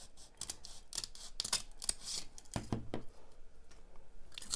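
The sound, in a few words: scissors cutting off a corner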